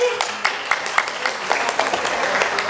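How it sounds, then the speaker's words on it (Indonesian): An audience claps along at a Balinese folk storytelling competition performed by PKK women, the sharp hand strikes falling in a steady, quick rhythm against a constant murmur of background noise. "tepuk tangan gini"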